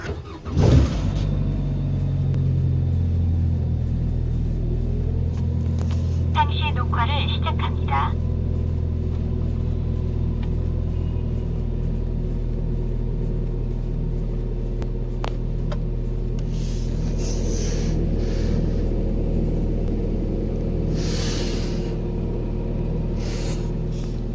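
A car drives steadily on a road, heard from inside as a constant low engine and tyre rumble that runs the whole way, with a few brief clicks and higher hisses partway through.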